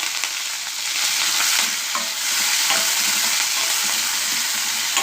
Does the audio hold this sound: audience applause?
no